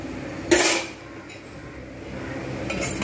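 A lid placed on a cooking pot, a single bright metallic clank followed by a short ringing decay, then a faint second scrape of metal near the end over a low kitchen background.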